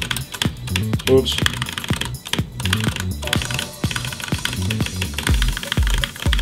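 Rapid computer mouse and keyboard clicks rattle along in quick, uneven bursts during a gaming session, close and crisp, with a voice and background game sound mixed in.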